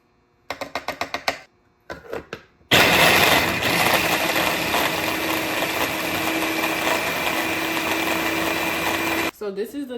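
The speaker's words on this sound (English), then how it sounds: "we're just going to pulse or process until the mixture is coarse" A food processor pulses a salad mixture until coarse: several short bursts of buzzing, then one long continuous run that stops abruptly near the end, loud and close.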